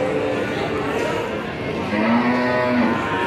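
Cattle at the Ambarketawang livestock market in Yogyakarta moo amid a busy, noisy crowd; one low drawn-out moo rises clearly near the end above the constant market din.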